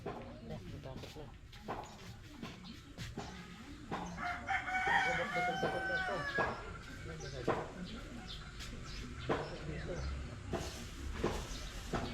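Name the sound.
chicken crowing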